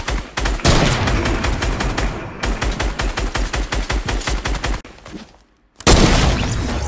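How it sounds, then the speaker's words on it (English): Heavy assault rifle fire in Fortnite: loud rapid bursts of close automatic shots, a short pause, then another sustained stream of shooting, with no talking. "A heavy assault rifle."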